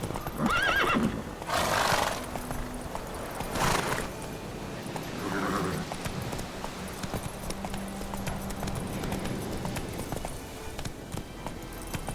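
Roach, the horse in The Witcher 3 video game, galloping with rhythmic clip-clop hoofbeats and a couple of loud neighs and snorts, over game ambience.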